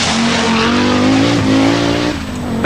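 A works Audi Quattro A2 rally car races hard on a loose surface, its engine loud and close with a sustained high-revving drone, pitch rising and dipping as it shifts and slides.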